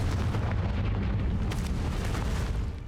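A continuous rumbling explosion from the Confringo fire spell in the video game Hogwarts Legacy, a dense, loud roar with crackling bursts that holds steady before easing slightly at the end.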